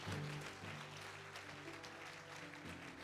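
Congregation applauding in a church service, a steady wash of clapping from many people throughout, with a faint hum and a brief voice at the start.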